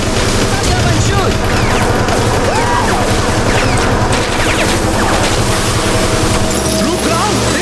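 Rapid bursts of gunfire crackle through the arcade shooter Let's Go Jungle, loud and continuous over busy game music and effects.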